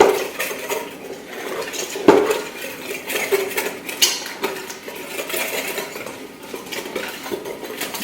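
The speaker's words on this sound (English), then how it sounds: "I'm just going to whisk all this up to get this all incorporated" A whisk beats balsamic vinegar into a creamy mixture in a pot, with rapid, continuous metallic scraping and rattling against the pot's sides, close and fairly loud, with one sharper knock.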